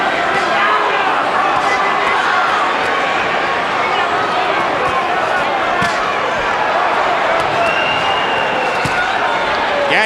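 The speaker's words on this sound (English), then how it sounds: "Crowd gets back into it" Spectators at the Gatti vs Ward boxing bout in 2002 cheer and roar in a steady, loud wash of crowd noise, with a commentator talking over it.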